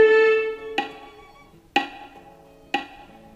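A sustained tone cuts off, then three sharp metronome-like clicks sound about one second apart, each leaving a brief ringing decay, close and clear with no speech.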